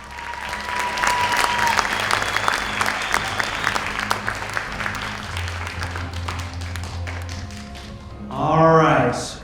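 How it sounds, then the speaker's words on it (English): An audience at a winter carnival queen's pageant gives the contestants a sustained round of applause, dense steady clapping over a low hum, ending with a brief burst of sound near the close. "Let's give all of our contestants one more big round of applause."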